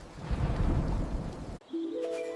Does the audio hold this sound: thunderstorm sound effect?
yes